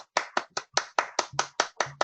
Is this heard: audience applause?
yes